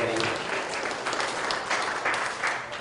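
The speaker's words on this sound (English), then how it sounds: "Give a round of applause." A roomful of tech-talk attendees claps for the CTO being introduced, with dense, steady applause that holds evenly throughout and has no voices on top.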